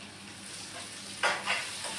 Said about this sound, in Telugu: ఇప్పుడు ఈ మసాలాలు మ్యాగీ నూడిల్స్కు పట్టేటట్లు బాగా కలుపుకోవాలి